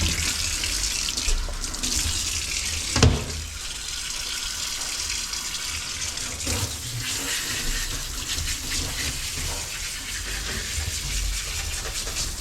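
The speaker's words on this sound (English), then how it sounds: "let's rinse him" Running water from a tap pours steadily over a dog during a rinse, a continuous close splashing gush with a brief louder splash partway through and no voices.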